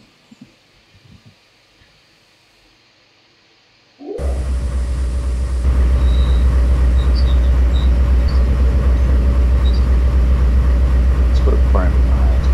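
A train in Trainz Railroad Simulator 2019 runs with a loud, steady low rumble that starts abruptly a few seconds in after a quiet stretch, continuing unbroken to the end.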